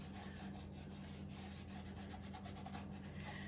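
Homemade wax rubbed by hand onto dried-out wood, a continuous close, soft friction rasp of quick repeated strokes with no speech.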